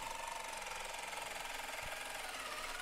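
A jigsaw cuts a circle into Lifeproof Starry Light waterproof laminate flooring, giving a steady rapid buzzing rattle that holds close and continuous throughout with one faint thump partway through.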